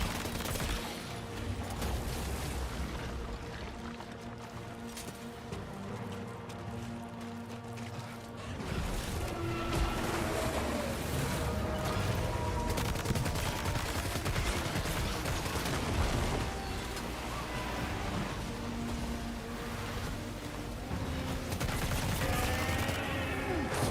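Sustained gunfire in Death Stranding 2, shooting at a giant BT during a boss fight, with bursts of shots over a loud, dense game soundscape of rumbling effects and music that runs for the whole stretch.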